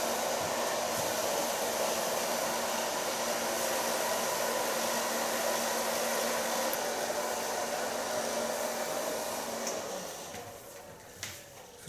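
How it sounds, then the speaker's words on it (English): A hair dryer blows steadily while hair is styled with a brush for a warm blonde pixie bob, a loud close whooshing hum that runs on and then winds down near the end. "So far blow drying with the brush."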